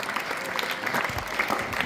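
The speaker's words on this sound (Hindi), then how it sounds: "सभी बच्चे तालियां बजाकर संजय सर का धन्यवाद करें।" Children at a school gathering applaud together, with steady broadband clapping filling the whole short stretch and a few louder claps standing out near the end.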